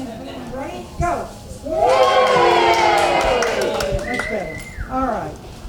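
A theatre audience at a melodrama breaks into loud, sustained cheering and whooping for the hero's theme, a crowd of mixed voices, children among them, swelling after a moment and tapering off with scattered shouts.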